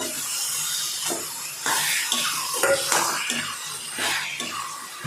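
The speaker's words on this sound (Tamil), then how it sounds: "இப்போ நம்ம 1/2 கிலோ கறி போட்டுக்கலாம்." Half a kilo of chicken meat tipped into a pot of sautéed tomatoes for chicken kurma, then stirred, giving repeated scraping and clattering bursts against the pan with a steady sizzling hiss underneath, close and fairly loud.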